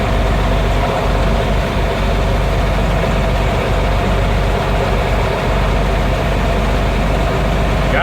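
A John Deere 8820 tractor engine idling up close, a loud steady heavy low rumble with a faint knocking pulse throughout.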